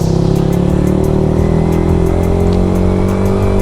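The radiator fan on a Yamaha Sniper 155R motorcycle blows hard with a loud, steady whirring drone, heard up close alongside a running engine hum.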